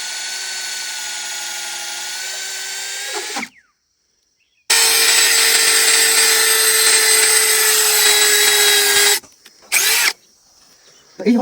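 A Wadfow 20V cordless drill whines loudly at full power in a long run, a brief silence, a second long run, then a short final burst, all close up.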